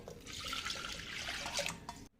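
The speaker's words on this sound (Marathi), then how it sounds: "आणि दोन वाट्या पाणी टाकून घेते" Two cups of water poured into a pressure cooker holding washed lentils for amti: a close, steady splashing pour that runs continuously for about two seconds and stops abruptly at the end, with no voices.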